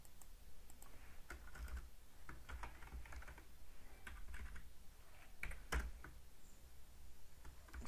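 Typing on a computer keyboard while writing HTML code, a steady stream of soft, close key clicks with irregular rhythm and a few louder taps, heard alone at low level.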